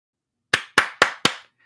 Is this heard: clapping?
yes